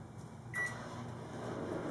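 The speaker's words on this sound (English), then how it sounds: "I'm gonna stick this in the microwave for like a couple seconds." A microwave oven hums along, its steady low drone starting just after a short beep-like tone, quiet and close in a home kitchen with no one speaking.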